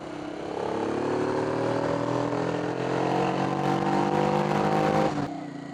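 A Honda Bros NT400 motorcycle engine on a noisy road ride, a loud, steady drone with rising pitch as it pulls through the gears, then easing off near the end.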